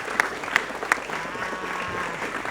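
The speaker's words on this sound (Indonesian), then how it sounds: "tepuk tangannya mana?" Applause for a teacher from an audience at a school event, a moderate wash of clapping with a few sharp accented claps near the start, steady at middling loudness.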